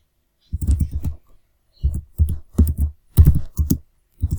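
Typing on a computer keyboard while entering a name into a form field, heard as several close bursts of clicking keystrokes separated by short pauses, with no talk.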